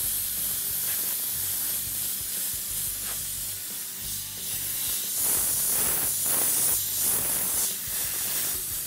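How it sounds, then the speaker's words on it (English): An airbrush sprays paint onto a car in a steady, close hiss, with soft pulsing bursts of spray as the flow starts and stops through the passage. "If I spray this here like this, I may end up getting that shape in the way."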